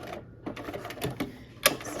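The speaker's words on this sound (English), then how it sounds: "I'm gonna go ahead and use my buttonhole stitch" Domestic sewing machine stitching a decorative buttonhole stitch on fabric, heard up close as a quick run of mechanical clicks and needle taps with one sharper clack near the end.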